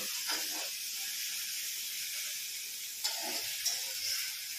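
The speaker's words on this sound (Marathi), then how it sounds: "कांदा असा छान गुलाबी होईपर्यंत परतून घ्यायचा" Onions frying in a pan until they turn pink give off a steady broadband sizzle with a few brief spikes of stirring, close and alone, with no talk.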